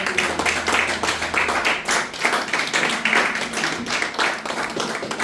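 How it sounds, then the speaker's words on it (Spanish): Members of a church congregation give a loud round of applause at a Spanish-language service, with steady, dense clapping that holds close and strong throughout. "dame un fuerte aplauso al Señor"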